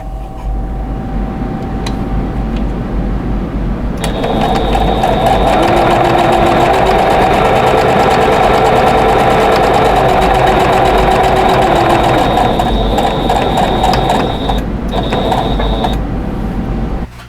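A sewing machine stitches a quilt block in a steady, loud mechanical whir that speeds up into a sustained rapid run before slowing, with brief pauses near the end.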